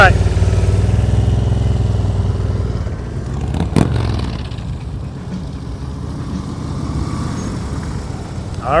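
A motorcycle rolls at slow speed during an advanced slow-speed riding practice in Florida. The engine drones steadily and close at first, then eases lower, with a brief clatter midway and a coach talking over it.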